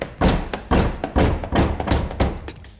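Repeated heavy thuds and clunks from working the door and broken handle of an old, rusted-out car, about six knocks in uneven rhythm, close by.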